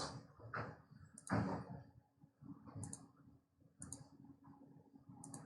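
Computer mouse clicks come in several quick double bursts, near and crisp, spread across a quiet stretch while working in drafting software, with faint low murmuring between them.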